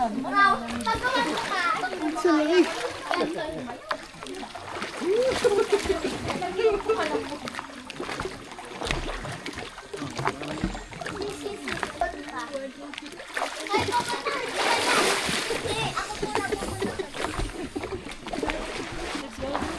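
Children and adults splash and bathe in a resort pool at Camp Mahogany in Quezon. Water sloshes and splatters steadily under constant chatter and children's voices, with a brighter surge of splashing partway through.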